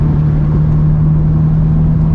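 A Mitsubishi Evo with its muffler deleted, set to quiet mode, gives a steady low exhaust drone with an even hum while cruising down a street. The sound stays constant and close with no voices.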